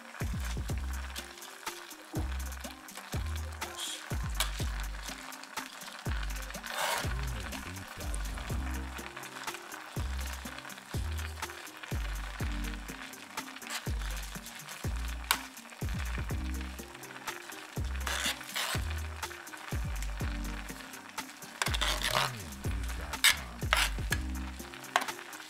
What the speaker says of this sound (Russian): поэтому мы сейчас с середины, да, на края, а с краев в середину размешиваем